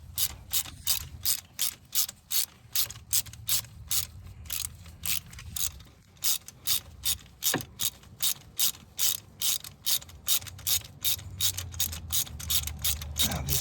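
Socket ratchet clicking in a rapid, steady train of sharp pawl clicks while backing a loosened spark plug out of a Toyota Tacoma V6, close up, with a brief pause midway and no talk.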